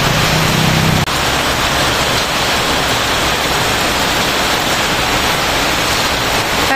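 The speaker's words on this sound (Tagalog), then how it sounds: "Sobrang lakas na ulan." Very heavy rain pours down at home in a steady, loud, dense roar of broadband hiss that stays constant throughout with no voices.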